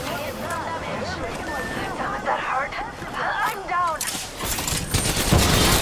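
Gunfire in the Apex Legends battle-royale video game: dense bursts of automatic shots with whizzing and ricochet tones, continuous and fairly loud across the whole stretch, with more rapid firing near the end.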